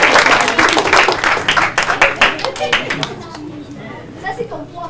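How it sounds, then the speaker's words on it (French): Audience clapping at an Eid al-Fitr community celebration in Montréal, a burst of brisk hand claps that thins out after three seconds, with children's voices chattering underneath. "Applaudissez!"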